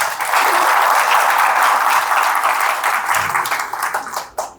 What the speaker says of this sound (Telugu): మీరందరూ చప్పట్లు పెట్టారు